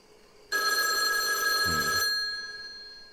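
Telephone ringing in the video game Cleanup Crew: a bright electronic bell burst starts abruptly and rings steadily for about a second and a half, then cuts off, leaving a fading tail, with no voices.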